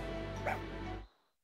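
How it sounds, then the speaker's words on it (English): A dog in the video game Fire Emblem Engage gives a short yipping bark, close and fairly loud, over steady game music that cuts off about a second in. "oh, another dog. Nice. It's a black one, too."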